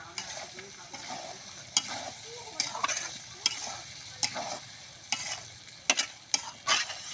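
Chicken giblets (gizzard and liver) for lotpoti fry in a pan while a spoon stirs them, giving about a dozen sharp, irregular scrapes and clanks over a steady low sizzle. No one speaks.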